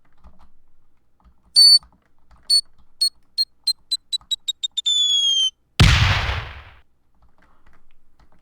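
A breaching charge in Garry's Mod beeps at an accelerating rate until the beeps merge into a steady tone, then a loud close explosion bursts and its rumble fades over about a second.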